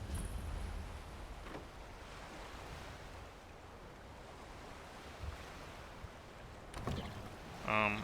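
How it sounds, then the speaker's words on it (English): Rowing a boat across water in Skyrim, soft lapping waves and wind with occasional oar splashes and strokes, faint and steady, ending in a brief louder knock. "We're gonna take the boat."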